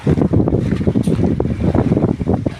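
Strong wind buffets the microphone in continuous gusty roars, with a low rumble like a boat engine or water underneath.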